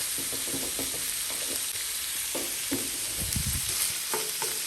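Food frying in lard in a pan on a stove, a steady close sizzle with intermittent scraping and stirring clatter throughout, no voices.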